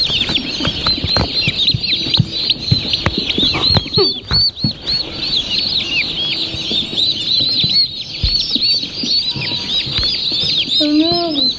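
Turkeys peck at a microphone outdoors, giving close, sharp taps and thumps over constant chirping and peeping from a flock of poults, with occasional wing flutters and brief voices.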